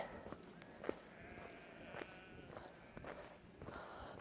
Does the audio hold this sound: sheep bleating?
yes